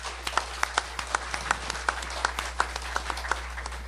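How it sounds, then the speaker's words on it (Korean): An audience at a theology debate on the WCC claps to welcome Professor Jeong Byeong-jun, a steady, fairly sparse run of distinct claps over a constant low room hum, with only a little speech. "우리 발제하실 정병준 교수님께 우리 박수로 격려해 주시기 바랍니다."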